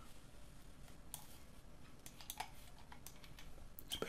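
Computer keyboard keys pressed during Photoshop photo retouching, a few sharp scattered clicks over a faint steady room hiss, quiet and close with no talking.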